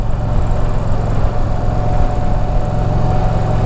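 A loud motorcycle engine drones steadily and close while the bike carves a curve on a Low Country road, its rumble continuous with no talking.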